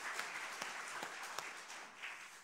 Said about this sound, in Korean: 영광의 박수가 함께 드리겠습니다